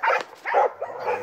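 A happy dog lets out a short burst of excited, yelping barks and whines, close and loud, with no one talking.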